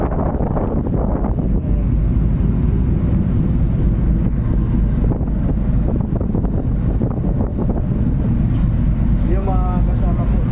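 Crowded passenger ship moving fast at sea in strong wind, with a steady loud roar of wind and rushing water filling the whole stretch while people talk over it.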